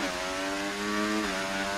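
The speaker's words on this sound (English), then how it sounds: "Why have I all of a sudden got really loud engine noises?" A loud car engine in a racing video game drones steadily with a buzzing, slightly revving tone, close and continuous without talk.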